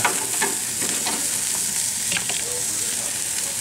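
Tri tip steaks sizzle on a grill with a steady, bright hiss of frying fat and occasional small pops, close and continuous throughout.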